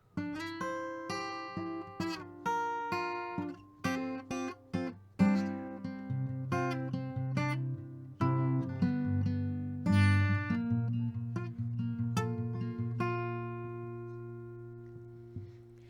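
An acoustic guitar plays the picked intro figure of a song, bright single notes over ringing bass strings, steady and unaccompanied for the whole stretch.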